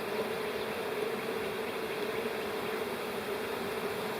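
A strong honeybee hive hums with a dense, continuous buzz of many bees, close and steady throughout with no talking.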